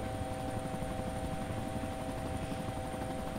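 A helicopter in the video game DayZ Origins gives off a steady, even rotor and engine drone that stays at a constant level throughout, with no voices over it.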